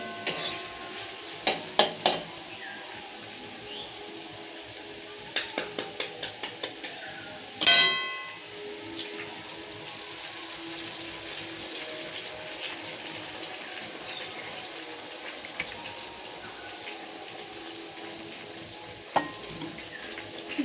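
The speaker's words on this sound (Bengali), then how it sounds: "ডিম আলু দুটোই একসাথে ভাজিয়ে নেব" Egg and potato fry together in a pan while being stirred, giving a steady low sizzle with scattered scraping and clinking of a spatula and one sharper clatter early on, under a faint background hiss.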